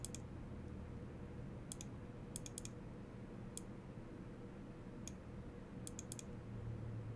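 A computer mouse clicks faintly in small scattered bursts, single and double presses spread over a quiet room hum, with no talking.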